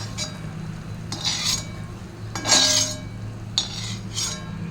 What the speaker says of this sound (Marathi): तोपर्यंत मी एका प्लेटमध्ये हे काढून घेते